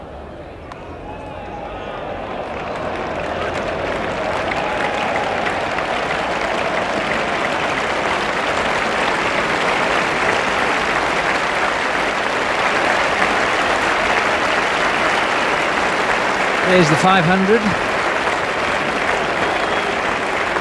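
Sustained polite applause from a cricket crowd at the England versus Australia first Test of 1989, a steady broad wash of clapping that builds over the first few seconds and holds level, with a commentator talking briefly over it.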